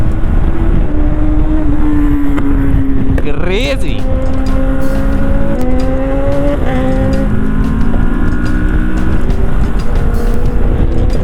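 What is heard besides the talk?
Kawasaki Ninja motorcycle flyby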